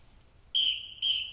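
Two sharp, piercing blasts on a drum major's whistle sound close by during a marching band demonstration, the first longer than the second, separated by a short gap.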